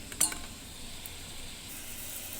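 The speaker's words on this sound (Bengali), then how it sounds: "পেঁয়াজ, রসুন, আদা যত রকমের মশলা সব একসঙ্গে দিয়ে দিয়েছি, দিয়ে তেলে ভেজে নিচ্ছি" Onion, garlic, ginger and mixed spices fry in oil, giving a steady faint sizzle with a small clink of a utensil near the start, close and low, with no voices.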